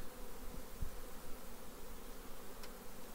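Young honey bees buzz steadily on a brood frame pulled from the hive, a soft, continuous drone close by with no voices over it.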